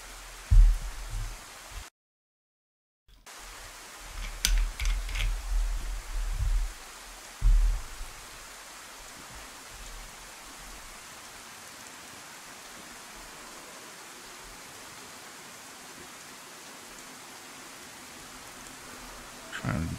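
Steady rain hisses across the outdoor world of the video game DayZ, a soft continuous wash with low thumps and bursts of movement early on, then an even patter.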